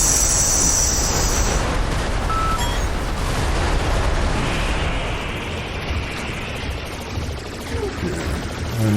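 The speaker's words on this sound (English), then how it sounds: "Use the bombs." Bombs going off in the video game Deity, a dense wash of overlapping blasts and gunfire-like crackle that runs loud and continuous throughout, easing slightly toward the end.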